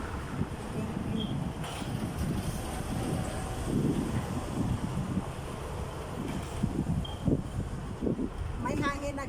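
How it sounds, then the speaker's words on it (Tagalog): Wind gusting outdoors in Dubai as winter weather arrives, a steady broadband rush with low buffeting against the microphone and louder surges throughout. "May hangin na guys."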